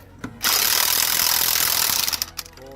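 A Mastercraft 8.5A corded impact wrench tightening a wheel bearing during replacement, sounding as one loud, close, sustained burst of rapid hammering for about a second and a half, then stopping.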